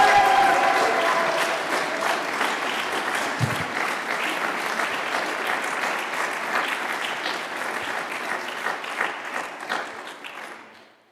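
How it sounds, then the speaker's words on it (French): A big crowd at a political rally in Lomme applauds warmly for a candidate, with loud sustained clapping that holds steady before fading out toward the end. "Un tonnerre d'applaudissements pour Caroline Vast."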